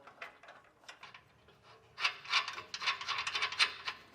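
A serrated flange nut is spun hand-tight onto a bolt while fitting a Curt trailer hitch receiver to a 2024 Jeep Wrangler Unlimited, giving close, quiet scraping and rubbing metal sounds that become a denser run of raspy turning noises in the second half.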